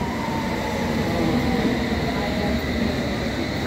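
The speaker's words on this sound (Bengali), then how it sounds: "2 মিনিটের মধ্যে ট্রেন আসছে" A London Underground train rumbles loudly and steadily at close range, with a continuous low roar and faint metallic tones and no voices.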